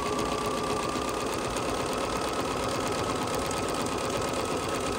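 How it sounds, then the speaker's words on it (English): A Bernina sewing machine runs continuously with no pauses, close and loud, its fast mechanical whir steady as it sews a tiny, tightly spaced stitch before switching to normal length. "So when we stitch this one, it's going really close together, then takes its normal stitch."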